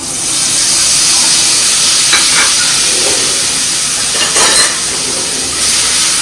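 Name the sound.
cumin and spice paste sizzling in hot oil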